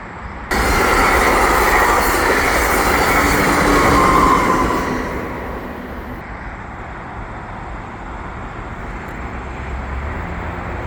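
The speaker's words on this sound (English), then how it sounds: "Here it is, the CPKC freight train that I've been waiting for." A CPKC double-stack freight train rolls west past the disused Valois station in Pointe-Claire, a loud, steady broadband rumble of wheels and railcars that fades and settles to a lower, continuous roll as it passes.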